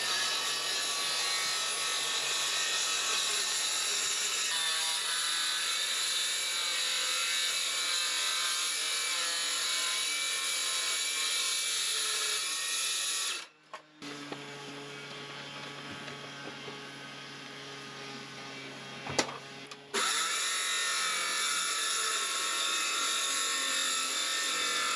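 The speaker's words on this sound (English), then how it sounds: "I have a ridiculous idea that involves circular sawing this thing lengthways" A circular saw cuts lengthways through cork with a steady, loud high-pitched motor whine. Midway the pitch shifts and the sound briefly drops and changes before the full cutting whine returns.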